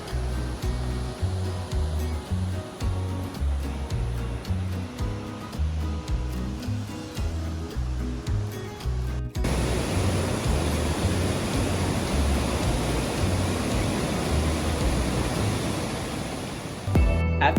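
A waterfall near Asheville, at the top of the falls, rushes loudly and steadily, with broad continuous water noise filling the scene and no voices.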